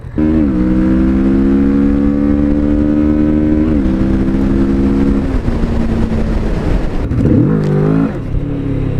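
Kawasaki Vulcan S 650 motorcycle engine revving and accelerating at close range, climbing in pitch through gears with shift breaks, then easing off and blipping near the end.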